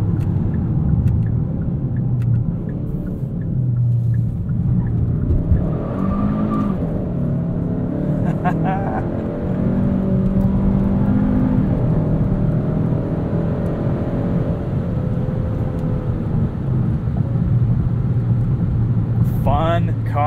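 Hard acceleration from a 2021 Hyundai Sonata N Line 2.5T with traction control off, wheels spinning through second into third, a steady loud engine drone and rising rumble heard from inside the cabin beneath someone talking.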